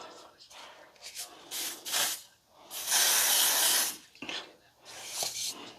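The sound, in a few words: aerosol spray can spraying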